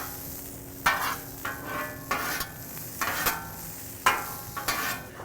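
Frozen diced hash browns fry on a Blackstone griddle with a steady sizzle, broken by a run of sharp scraping strokes as a spatula turns and stirs them, close and fairly loud, with no talking.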